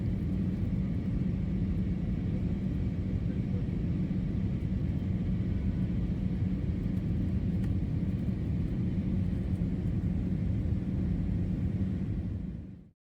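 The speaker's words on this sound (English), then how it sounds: "Looks like we're lining up to land at the City Aero Park" Inside a small jet landing at a city airport, a steady loud engine and cabin rumble drones without pause before cutting off abruptly at the end.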